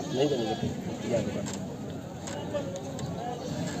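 A goat bleats a few times close by at a livestock market, its cries mixing with people bargaining over the top.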